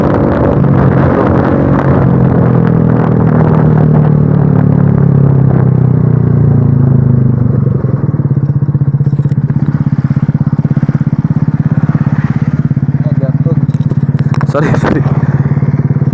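Motorcycle with a cheap, loud aftermarket exhaust on an otherwise stock bike, rumbling steadily close by at a loud idle with a few rises in revs and some clatter, while a person speaks briefly over it.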